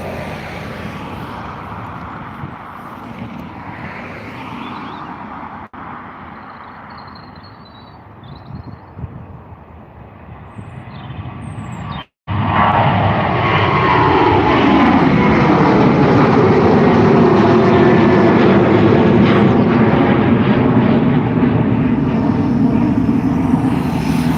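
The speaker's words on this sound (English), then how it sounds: "let's see the beautiful aircraft taking off" A Ryanair Boeing 737-800 takes off at Dublin Airport, starting as a distant rumble before jumping into a loud, sustained jet roar with rising and falling engine tones, no talking.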